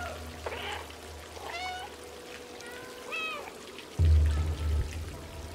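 A cat in the video game Stray gives three or four short, clear meows, close up and fairly loud. A low, muffled rumble from the game follows them near the end.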